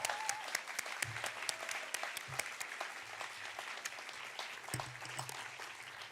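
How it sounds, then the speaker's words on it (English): Crowd at a Welsh youth work excellence awards ceremony claps steadily in a hall, a continuous wash of applause with a few sharp individual claps standing out and faint low rumbles beneath. "So if you could give yourself and the industry one last big round of applause."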